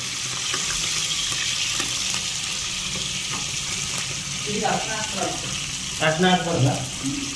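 Chili being mixed in a hot frying pan with mustard seeds and cumin, a steady sizzle with scraping stir strokes that grow louder toward the end, alone without talk.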